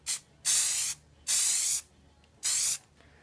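A spray paint can hisses in three short bursts while painting HO scale model track, its rails and tie plates. Each sharp, close burst lasts about half a second, with brief pauses between.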